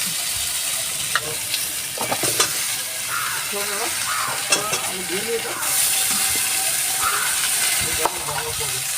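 Potato, broad beans and pumpkin with salt and turmeric frying in a pan, a steady close sizzle with intermittent stirring scrapes and clinks, no one speaking.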